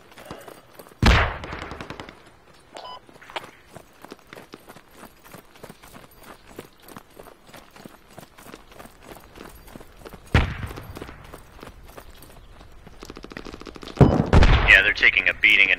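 Sniper gunfire in the video game Squad, with scattered sharp shots, a few loud close cracks and faint distant rapid fire, under intermittent voice chat.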